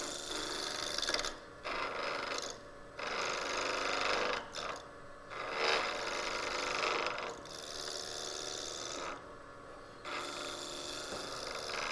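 Wood lathe taking an inside-out turning cut on wood, a steady broadband scraping and hissing that runs throughout with brief gaps where the tool lifts off the work, fairly close and continuous, no talk.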